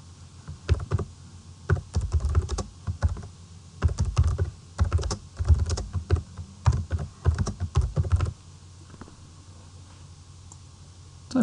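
Close typing on a computer keyboard in quick irregular bursts of key clicks, then a pause and quiet near the end, with no talk.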